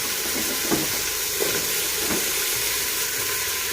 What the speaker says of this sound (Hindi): और अभी इसमें प्याज और टमाटर भून रहा है।